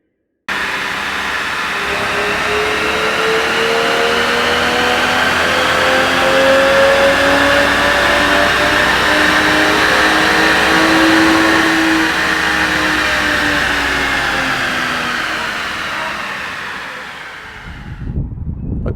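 A Lexus IS300 with a Toyota 2JZ-GE inline-six revs loudly on a dynamometer, pitch climbing steadily through a long pull before the throttle drops off near the end.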